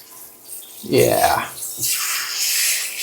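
Portable rechargeable camping shower fed from a 5-gallon water jug, spraying as a dog gets a quick bath; a steady hiss of water rises after a brief spoken word and a squeaky sound.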